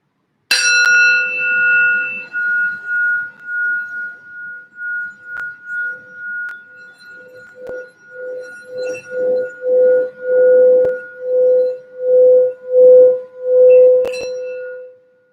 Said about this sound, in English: I wanted to just do the sound bell here for some quick healing and just to ground us for the reading.